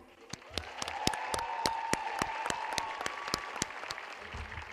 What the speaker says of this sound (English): please give a round of applause to the graduating class of Westlake High School